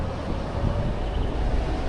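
Strong gale sweeping a Suzhou city street under rain and dust, a steady, loud roar of buffeting wind noise that holds throughout with no voices.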